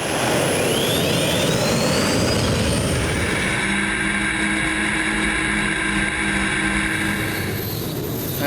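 A turbine-powered pulling tractor roars at a 2012 Eurocup tractor pull in Hajdúböszörmény, Hungary: a loud, continuous jet-like blast with high whine that shifts after a few seconds into a steadier drone with strong sustained tones.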